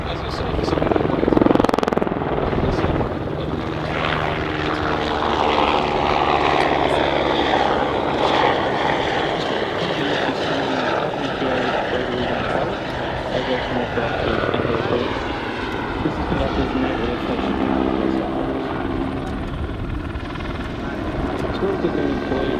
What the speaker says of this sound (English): So today we're flying the Eurocopter AS350 Bravo Alpha Squadron.